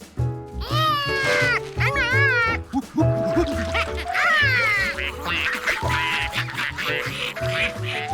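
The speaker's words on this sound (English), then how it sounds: "Feed the ducks." Repeated nasal quacking calls from cartoon ducks sound close by, overlapping in bursts, with some higher squawky cries and background noise throughout.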